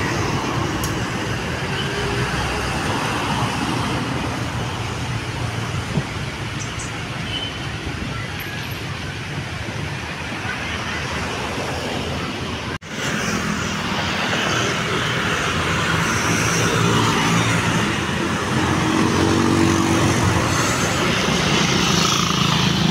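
Steady broadband road traffic at the MacArthur Highway crossing near NCCC Mall, a continuous wash of passing cars, buses and motorcycles with engine rumble, loud and unbroken throughout.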